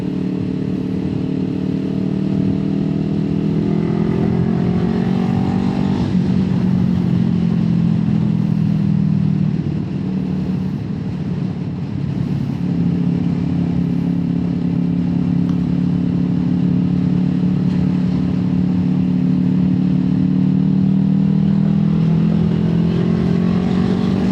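A Kawasaki Eliminator 450 motorcycle engine drones steadily close up, its pitch rising and falling as the throttle opens through the ride, with wind noise over a continuous loud roar and no talking.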